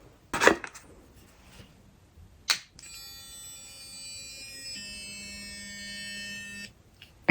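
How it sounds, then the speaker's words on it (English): A SURI electric toothbrush gives a steady, high-pitched electronic buzz with a beep-like tonal quality, sustained for about four seconds after a couple of short clicks, fairly close and alone with no voices. "Any electric toothbrush sounds weird."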